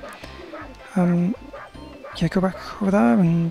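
A Dalmatian puppy in 102 Dalmatians: Puppies to the Rescue gives a few short yips and barks in the game, heard close and clear between stretches of a person talking over it.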